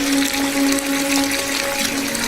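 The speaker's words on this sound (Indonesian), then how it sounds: "Aku nyalakan keran air untuk mengisi ember." A water tap runs into a bucket in a bathroom, a steady, loud rushing splash with a faint constant tonal hum underneath.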